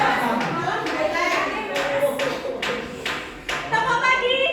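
Children clapping in a classroom clapping game, a handful of sharp, separate claps in an irregular pattern amid chattering young voices, close and moderately loud.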